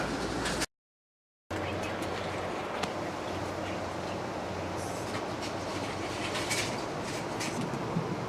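Steady rumble and rattle from inside a moving train car at night near Needles, California, with occasional wheel clacks and faint squeals, continuous after a brief cut to silence.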